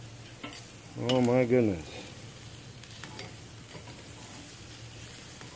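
New Orleans style shrimp on a grill, flipped partway through cooking, give a steady, soft, close sizzle throughout, with a brief exclamation from a voice near the start.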